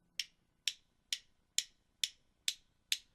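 Seven sharp, dry clicks at an even, steady pace, drumsticks held in a tight grip tapped together, each with a quick bright attack and short decay, isolated and close.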